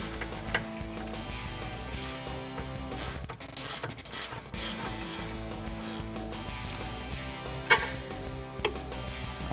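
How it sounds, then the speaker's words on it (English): A 16mm ratcheting wrench clicks rapidly on an end link nut during a Dodge Challenger R/T Eibach Pro-Plus suspension install, with dense metallic ratcheting in steady bursts, close and fairly loud throughout. "I'm gonna use a 16 ratcheting wrench on the nut"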